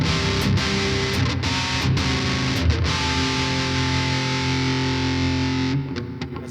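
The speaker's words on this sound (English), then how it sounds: "And if we try an ultra metal distortion," A Les Paul Custom electric guitar on the neck pickup through ultra metal distortion plays sustained chords and a few chugging hits, loud and continuous, before cutting off near the end.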